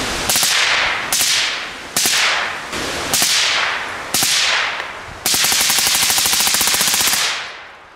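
An AR rifle fires outdoors in several loud, sharp cracks with ringing tails, then a long rapid string of shots that ends abruptly and trails off into echo.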